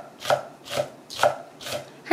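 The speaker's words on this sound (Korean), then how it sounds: "고추를 썰어 보겠습니다" A knife chops chili peppers, red and Cheongyang green, on a cutting board in four evenly spaced, crisp thuds, close and clear with no talking.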